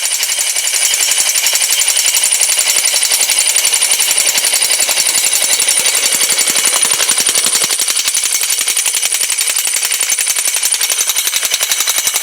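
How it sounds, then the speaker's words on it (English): A jackhammer driving a sand point well pipe into the ground hammers in a rapid, unbroken, loud metallic rattle that continues steadily from start to finish. "So we're just going to jackhammer this thing in and see how that goes."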